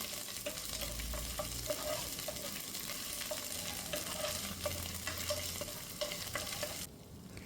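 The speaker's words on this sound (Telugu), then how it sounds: "1 స్పూన్ అల్లం వెల్లుల్లి పేస్ట్ వేసి ఈ అల్లం వెల్లుల్లి పేస్ట్ అనేది పచ్చివాసన లేకుండా బాగా ఫ్రై చేసుకోవాలి." Ginger garlic paste fries and sizzles in hot oil for a dhaba-style aloo egg masala curry, a steady close crackle with periodic scraping stirs throughout, no voices.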